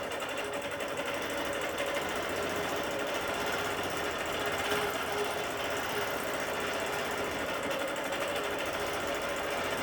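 A sewing machine quilting a ribbon candy stitch runs in a continuous, steady, fast mechanical chatter that stays close and even for the whole stretch.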